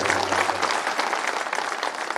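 A crowd at a Madhya Pradesh by-election political rally bursts into loud, dense applause, a thick, continuous roar of clapping that lasts the whole stretch.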